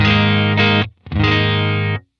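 An electric guitar through a compressor pedal on its medium setting plays two loud, sustained strummed chords with a brief silent gap between them, bright and close, with no talking.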